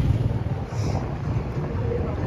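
Steady low rumble of a tour boat engine mixed with buffeting wind across the microphone, continuous throughout, with faint voices underneath.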